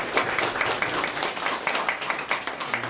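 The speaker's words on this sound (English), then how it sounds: "A round of applause." A small crowd applauds with steady, moderately loud clapping that keeps an even pace throughout.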